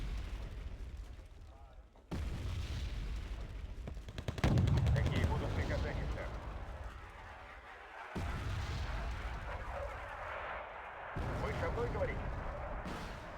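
Artillery and gunfire rumble through a battle in the video game Wargame, with booming blasts, crackling bursts and a steady roar of combat continuing throughout, under a voice talking.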